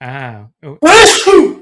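A person gasps with a short voiced intake, then lets out a loud, sharp sneeze that bursts close to the microphone, all within under two seconds.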